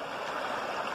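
A mountain stream in Vermont gold country flows close by, a dense, even rush and burble of water over rock filling the whole moment with no pause.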